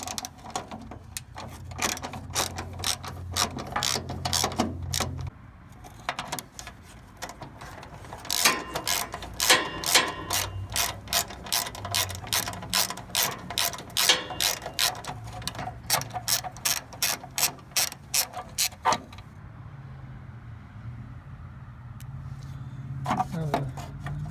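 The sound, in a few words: ratchet with 3/8 inch socket loosening bolts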